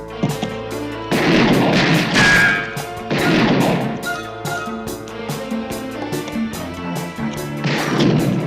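Gunfire in a police shootout scene from the TV series Hunter: loud, repeated heavy shots and booming blasts ring out in close succession over a dense, reverberant backdrop, with no talk.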